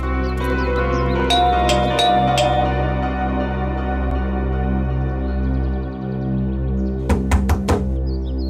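Hollow knocks rap on a door in two short clusters, a few near the start and a rapid run of knocks near the end, over a steady low background hum.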